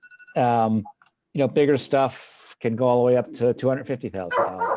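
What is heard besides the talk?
dog barking in the background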